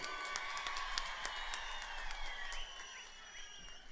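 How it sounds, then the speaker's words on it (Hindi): A large crowd applauds and cheers loudly for a popular young MP and Gorkha leader at a political rally, dense clapping steady throughout with scattered shouts and whistles. "जोर से ताली बजाइए"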